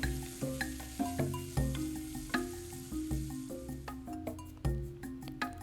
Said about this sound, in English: Now add the slitted green chilies and crushed garlics and saute for another